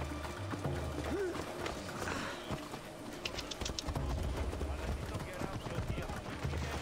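Horse hooves clip-clop steadily during a ride in Assassin's Creed Odyssey, a fairly loud rhythmic trot with game music and mechanical clicks in the background.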